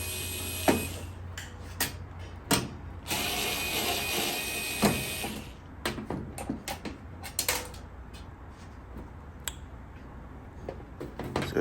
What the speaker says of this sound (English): I have my electric screwdriver with the 1/4-inch bit